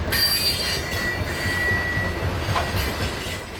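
A coal train passes on the Port Road in icy conditions, with a steady roll of wheels and high, thin squeals rising over the rumble, moderately distant and continuous with no voices.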